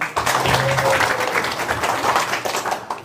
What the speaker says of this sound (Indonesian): Aplaus buat panitia